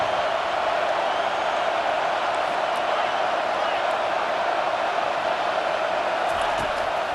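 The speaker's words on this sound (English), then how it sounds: "Decibels rising as the crowd gets behind this defense on third down." Football stadium crowd at an Oregon versus Iowa game roaring steadily for the defense on third down, a loud continuous wall of cheering noise throughout.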